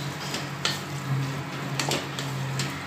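Chicken pieces and egg bhurji are stirred in a hot pan for chicken noodles, giving a continuous close sizzle broken by several sharp spatula scrapes and clinks against the pan, with no talking.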